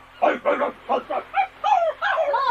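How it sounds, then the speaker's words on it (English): Two dogs bark and yelp in a scuffle, a rapid series of close, loud barks followed by higher whining yips, with a dog fight under way. "look, there's another dog."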